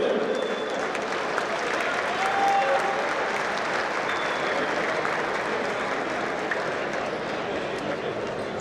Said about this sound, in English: one more big round of applause for Mr.